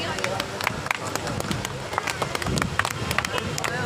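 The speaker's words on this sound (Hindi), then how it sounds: "जोरदार तालियां बजा दीजिए।" An audience claps at a branch inauguration ceremony, with a dense, uneven patter of hands mixed with crowd murmur and voices, steady throughout.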